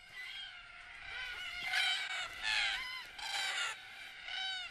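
Wild cockatoos gather at an evening watering hole, their harsh, raucous calls overlapping in a dense, noisy chorus, with louder squawks surging up repeatedly and close by.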